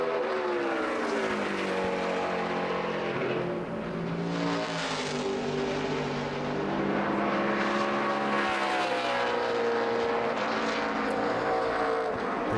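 A NASCAR Nationwide Series race car, the 01 Chevrolet, lapping Richmond Raceway in qualifying, its loud engine droning and shifting pitch continuously as it passes through the turns.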